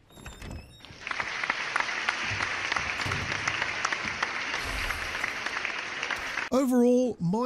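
Studio-style crowd applause sound effect, a dense steady burst of many clapping hands that cuts in abruptly and holds level, then ends sharply as a voice begins talking.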